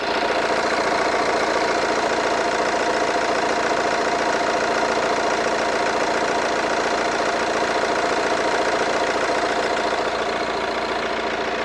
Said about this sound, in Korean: 우선 엔진 소리 먼저 한번 들려드릴게요